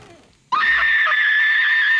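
A woman in the horror film The Ring lets out a sudden, piercing scream that cuts in after a quiet opening and holds loud and sustained to the end.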